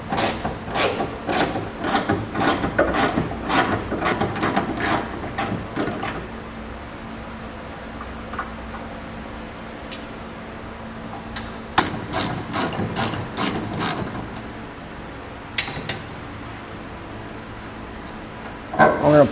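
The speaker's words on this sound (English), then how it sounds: "We're going to grab a 15mm socket and we're going to pull those two nuts off." A ratchet with a 15mm socket loosening two suspension bracket nuts on a vehicle, heard as rapid close clicking bursts with a pause in the middle and a low hum between them.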